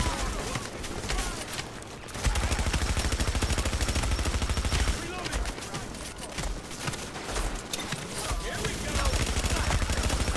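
Gunfire in Tom Clancy's The Division Clear Sky DLC on PS4: dense, continuous bursts of rapid automatic fire and overlapping shots, loud and sustained, with a brief lull near the start before the volleys resume.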